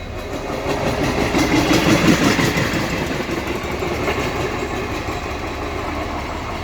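Diesel banker locomotives idle at the end of a halted Mangaluru–Bengaluru express at a station. A loud, steady low engine rumble swells slightly and then settles into a constant drone, with no voices.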